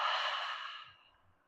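A deep controlled exhale during a breathing exercise in an exercise class, one long breathy airy rush that fades gradually over about a second.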